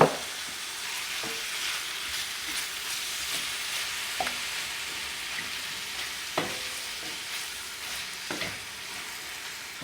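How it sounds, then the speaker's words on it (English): About one and a half pounds of shrimp for Cajun barbecue shrimp sizzle steadily in a hot pan, with a continuous close hiss and occasional clinks or stirring knocks, no talking. "Now we're going to add the shrimp."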